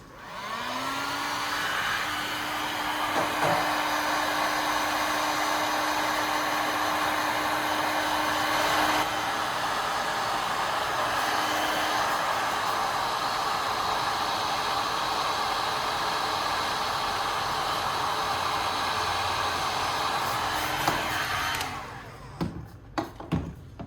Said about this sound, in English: Now I'm taking a heat gun and carefully heating up the bottom of the soda can.